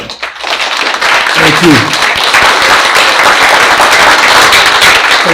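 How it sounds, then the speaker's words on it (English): A board of education meeting audience gives loud, sustained applause to players and parents, dense clapping continuing throughout with a brief spoken thanks near the start. "please stand up so we can give you a round of applause as well"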